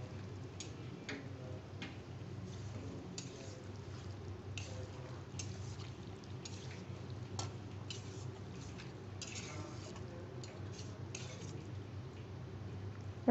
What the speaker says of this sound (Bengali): ভেজে রাখা আলুগুলো দিয়ে দেবো। সবগুলো আমি ভালোভাবে একটু নেড়ে দেবো।